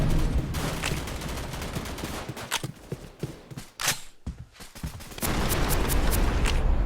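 Gunfire from a gun with a 64-round magazine in a shooter video game, rapid sustained bursts of loud shots, close and continuous, with brief pauses between volleys and no talking.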